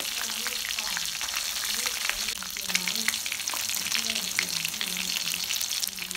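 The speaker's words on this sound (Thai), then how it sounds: "เราก็จะทอดปลาทูนะคะให้กรอบเลย" Two fresh mackerel deep-fry in hot oil until crispy, giving a loud, continuous crackling sizzle dense with rapid pops throughout, with no talk over it.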